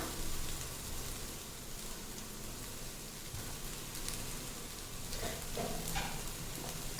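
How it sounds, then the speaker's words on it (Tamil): A chana dal mixture sautés in a pan, giving a faint, steady sizzle with occasional soft stirring scrapes and no voices. "சேர்த்துட்டு நல்லா வதக்கி விட்டுருங்க ஒரு அஞ்சு நிமிஷமாவது சிம்லேயே நல்லா வதங்கட்டும்"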